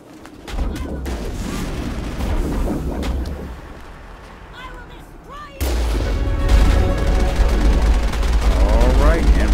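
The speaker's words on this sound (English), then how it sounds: "Let me just get in the Mako and use its guns for that extra experience." Vehicle-mounted guns on the Mako rover in the Mass Effect 1 video game fire in repeated loud blasts and bursts, with booming impacts and rumbling explosions throughout, growing heavier and denser in the second half.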